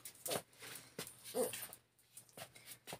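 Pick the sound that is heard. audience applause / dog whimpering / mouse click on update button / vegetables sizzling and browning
dog whimpering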